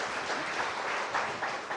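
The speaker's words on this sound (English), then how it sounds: "Round of applause." An audience claps for someone who has just had a creative thought, a steady broadband patter of applause lasting under two seconds, moderately quiet and with no voices on top.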